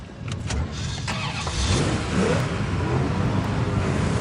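A Corvette's rebuilt engine cranks and catches, then settles into a loud, rumbling idle close by, with no one speaking.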